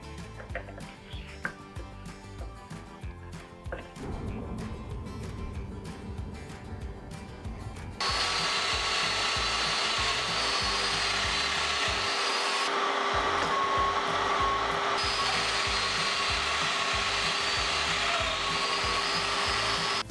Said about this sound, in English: That way I'm not cutting into the mortise I'm going to cut with the domino